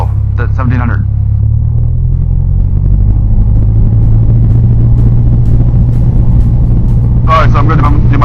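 A light aircraft engine holds a steady, loud drone at 1700 rpm during a pre-flight run-up check, with a person talking briefly over it at the start and again near the end.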